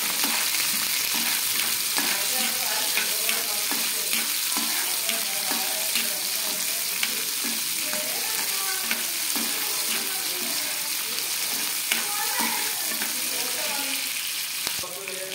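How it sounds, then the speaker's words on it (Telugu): Green chillies and cumin seeds frying in hot oil in a kadai give a dense, continuous sizzle with scattered pops and crackles, loud and close throughout, with no voices. "కడాయిలో ఆయిల్ వేసి బాగా కాగాక పచ్చిమిర్చి, జీలకర్ర అయితే వేసుకోవాలి. వేసుకొని వీటిని బాగా ఫ్రై చేసుకోవాలి."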